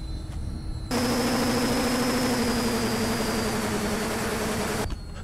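Engines of a radio-controlled VQ Models Ju-52 model plane in flight at partial throttle, a steady droning hum that cuts in sharply, holds evenly for about four seconds, then drops away.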